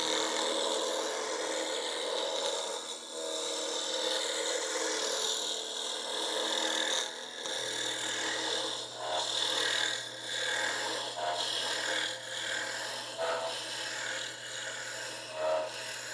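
Black walnut wand being shaped by hand, with steady rasping and rubbing strokes of a file or sanding tool on the wood running throughout, close and continuous, with no talking.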